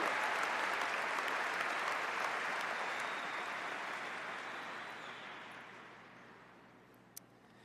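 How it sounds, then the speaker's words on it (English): Applause at the Edina High School graduation for the director of the commencement band, broad crowd clapping in a large venue that swells, then gradually dies away, with a sharp knock near the end. "If we can give another round of applause to Mr. Paul Kyle directing our commencement band."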